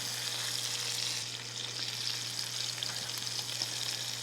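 Wild deer liver frying in a pan, a soft, steady sizzle with light stirring noises, fairly quiet and close, no voices, with a low constant hum underneath.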